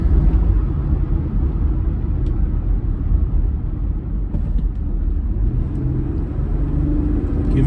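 A Jeep Gladiator V6 pickup drives along the road, its engine a deep steady rumble with rising drone under road noise, loud and close from inside the cab, no talk.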